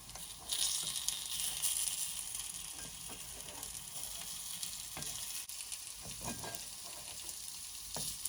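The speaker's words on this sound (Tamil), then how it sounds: "திருப்பியும் மூடி பொரிப்போம்." Vada frying in oil in a covered pan makes a steady, close sizzle with a bright crackling hiss that holds throughout, dotted with small pops and faint clicks, and no voices.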